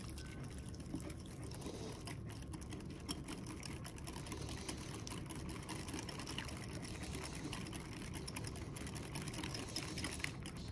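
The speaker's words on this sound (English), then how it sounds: "I'm going to use my little whisk today." A small whisk stirs homemade copycat Frisch's tartar sauce in a bowl, giving a steady, soft, continuous wet churning and scraping that stays fairly faint and even for the whole stretch, with no talking over it.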